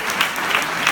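A seated audience applauds a speaker at a leadership talk, a dense, steady patter of clapping hands filling the short moment without any voices over it.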